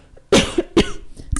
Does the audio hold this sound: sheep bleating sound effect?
no